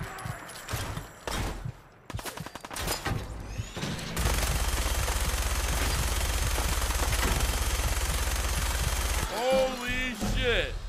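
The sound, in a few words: machine gun fire, Fallout 4 video game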